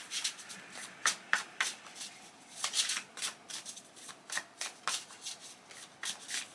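Tarot cards are shuffled by hand in a quiet room, a soft, fairly faint run of repeated riffling bursts in an irregular rhythm, heard alone.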